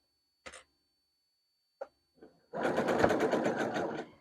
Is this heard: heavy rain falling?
no